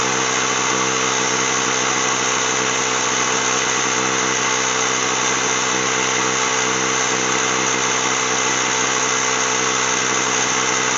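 A Ryobi ONE+ 18V cordless mini compressor runs steadily while filling a tire, a loud, constant motorized drone with rattling vibration and no pauses.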